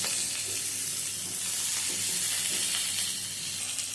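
Flat beans (shim) stirred and fried in a pan with a little oil for a vegetarian hing-bori curry: a continuous close hiss of sizzling with soft scraping from stirring, no voices.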